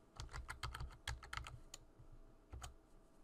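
Quiet, close clicking of fingers typing on a computer keyboard, a rapid flurry of keystrokes followed by a pause and a couple of final taps.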